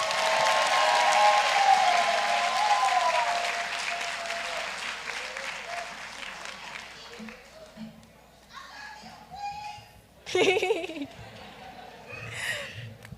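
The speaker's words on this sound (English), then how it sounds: "Can we give her another round of applause?" A crowd at the Eastpointe High School Class of 2025 graduation breaks into loud, sustained applause that gradually fades, followed by scattered voices and a brief cheer.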